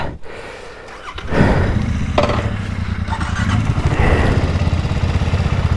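Motorcycle engines, a BSA Goldstar and a Royal Enfield Continental 650, running close by with a steady throbbing idle and revs that pick up after a brief quieter start, plus some clattery mechanical noise.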